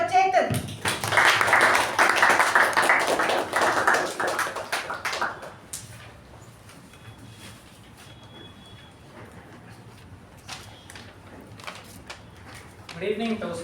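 A Toastmasters meeting audience claps in welcome, a dense burst of many hands for several seconds that thins to scattered claps, then a voice begins speaking over quiet room tone.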